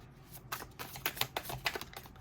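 A tarot deck is shuffled by hand, close and fairly quiet, in a quick run of crisp riffling flutters and card slaps.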